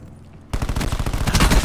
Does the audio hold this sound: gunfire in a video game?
yes